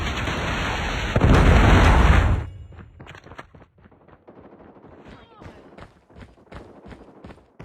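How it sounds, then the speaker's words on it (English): A heavy predator missile blast in Call of Duty Mobile roars for about two seconds. A rapid spatter of gunfire and crackling follows, with game voice lines mixed in. "Predator missile inbound."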